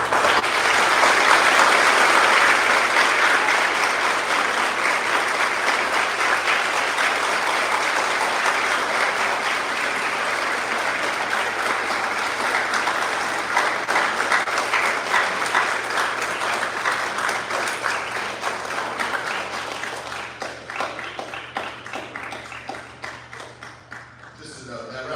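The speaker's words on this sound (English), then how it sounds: "that round of applause for everyone" A crowd applauds steadily for over twenty seconds at an eighth grade promotion ceremony, a dense wash of clapping that slowly thins and fades near the end.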